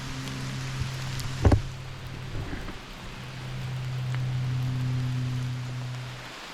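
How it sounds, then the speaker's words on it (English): Steady pouring rain on a forest trail along the Manistee River in Michigan, a broad soft hiss with a few nearby drips and taps, and a low steady hum running underneath. "Still pouring rain."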